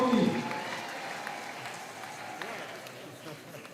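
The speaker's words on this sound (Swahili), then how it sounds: "Naomba tumpigie makofi" An audience at a parish church celebration applauds to welcome the district commissioner. The clapping is steady and sustained, with crowd murmur mixed in and a voice heard at the start.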